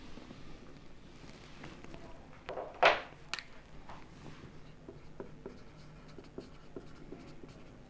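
A pen scratches out notes during a Class 12 physics lesson in a quiet room. The strokes are faint and brief, with one sharper scrape near the middle.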